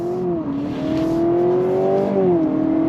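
A 2025 Honda Civic Hybrid Sport Touring accelerates on throttle, its smooth engine hum rising steadily in pitch and dipping with two gear-like shifts, loud and close throughout with no talk.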